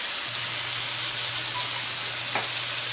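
Onions fry in a hot pan for a chicken, onion and rice dinner, giving a steady, close sizzle with a low hum underneath and no talking.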